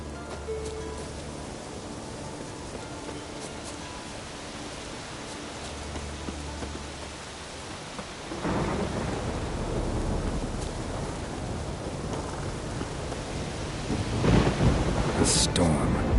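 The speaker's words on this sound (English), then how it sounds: "A storm, damn it." A thunderstorm breaks over open country in The Witcher 3: Wild Hunt, starting as quiet ambience before a loud rush of heavy rain sweeps in, with thunder rolling through the downpour and swelling toward the end.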